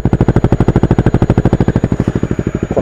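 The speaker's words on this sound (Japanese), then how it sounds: "アイドリングはこんな感じ。" A motorcycle fitted with an FMF Q4 exhaust idles up close, a loud, deep, steady chain of rapid thumping pulses that holds an even rhythm throughout.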